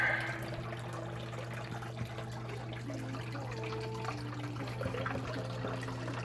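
Water flowing steadily through an indoor gold sluice, a continuous trickling and splashing rush under a constant low pump hum, fairly quiet with no talk.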